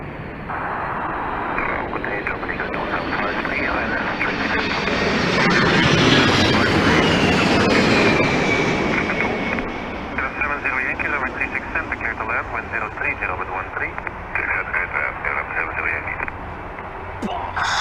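An Airbus A300 airliner with formed alloy winglets passes with a loud, old-school engine roar that swells to a peak mid-pass and then recedes into a steady rumble, with talk over it.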